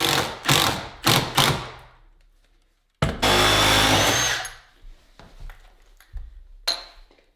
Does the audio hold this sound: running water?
no